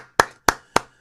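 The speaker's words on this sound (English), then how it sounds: "I gotta clap it up." Four sharp, evenly spaced hand claps ring out close and loud, each a crisp slap with a short decay, alone with no talking.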